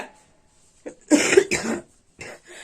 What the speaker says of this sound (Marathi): मला खोकला यायला लागलाय